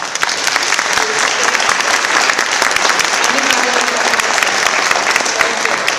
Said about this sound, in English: this is a good time for applause